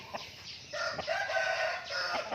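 A rooster crows once at moderate distance, a short rising and held call over faint background noise.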